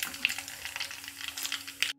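Dry red chillies and cumin seeds hitting hot oil in a pan, a brief bright crackling sizzle with a few sharp pops, then cutting off.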